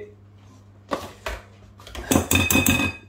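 Apple cake batter, with its lumps pressed out, is stirred in a bowl, giving a few scattered clinks of a utensil against the dish and then a busier run of scraping and knocking toward the end.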